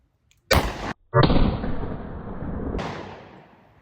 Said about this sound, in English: first we will do 3 shots, the 210 grain load from our 4-inch barrel here